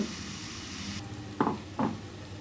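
Soft sizzling of onions frying in oil in a pan, with two brief scraping stirs near the end; quiet and close, no talking.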